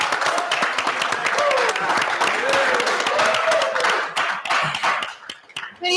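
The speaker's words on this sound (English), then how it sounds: "Everybody in the audience, cheer on your favorite campus ministry." Campus audience clapping and cheering for their favorite campus ministries, loud dense applause with shouts that thins out and turns to scattered claps near the end.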